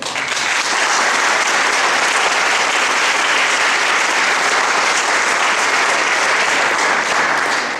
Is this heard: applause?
yes